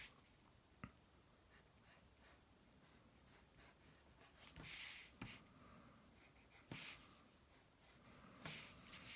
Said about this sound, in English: go around the outline of the outline, so the sort of the perimeter of it, and just with the point of the pencil